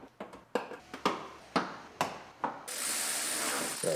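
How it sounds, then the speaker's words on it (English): A ratchet or driver clicks in bursts as screws are driven into the bumper of a 2017 GMC Terrain SLE, about eight sharp, close clicks, then a denser whirring spell near the end. "Put our screws in our bumper."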